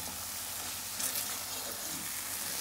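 Curry mixture with Madras curry powder and salt being stirred in a pot, a steady soft sizzle with faint scraping at the bottom, continuous and close, no voices.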